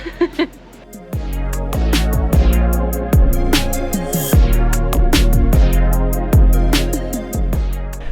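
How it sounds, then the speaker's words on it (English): Repeated metallic banging and clanking from nearby construction work in a village in Busan, South Korea, irregular hammer-like hits over a constant background rumble. "that's why you can hear the construction going on behind me"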